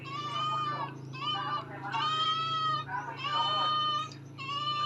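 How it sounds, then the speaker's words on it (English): A small cat meows repeatedly in a Philippine home, several drawn-out calls in quick succession, close and fairly loud over a steady low hum. "We need to give a name to this little cat."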